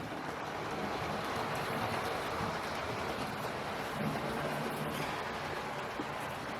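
A small model steam locomotive pulling a train runs steadily along the track, a continuous rumbling chuff and rattle with a broad hiss of noise throughout.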